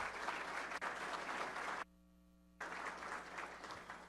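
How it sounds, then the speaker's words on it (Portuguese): Audience applause at a consumer-satisfaction award ceremony: steady, full clapping that cuts out abruptly for under a second, leaving only a faint electrical hum, then resumes just as strongly. "Salva de palmas."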